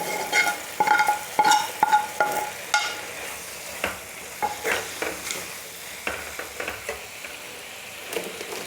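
Boiled potatoes are stirred into sizzling masala in a pan, giving a string of scraping, clattering stirs over a steady frying hiss, close and moderately loud, with no talk.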